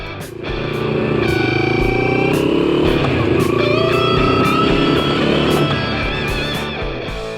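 Moto Morini X-Cape 650 adventure motorcycle engine starting up, a brief crank followed by a loud, steady idle with a wavering pitch, close by and running for several seconds before dropping back.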